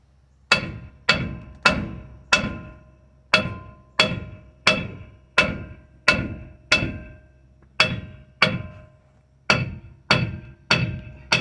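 Heavy hammer blows pound a seized brake drum on a Chevy P30 Grumman van chassis, about fourteen loud metallic strikes at a steady, slightly uneven pace, each ringing briefly before the next.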